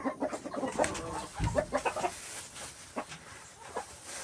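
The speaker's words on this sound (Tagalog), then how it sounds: "Tingnan mo yung mga manok natin, no?" Backyard chickens cluck and murmur close by in a farmyard coop, a scattered run of soft calls with one deeper thump partway through, no talking.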